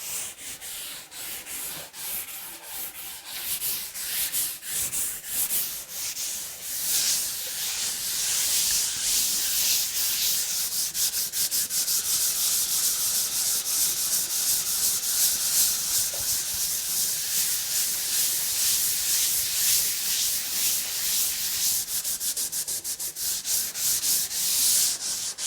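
Sandpaper rubbed steadily across a wooden belly board, a close, continuous rasping hiss with short strokes at the start settling into sustained sanding.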